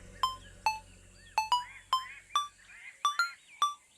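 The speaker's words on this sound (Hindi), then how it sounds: "मम्मी का फोन है" A mobile phone ringing with a melodic ringtone of sharp, bell-like electronic notes in an irregular pattern, clear and close, with a faint low hum under the first part.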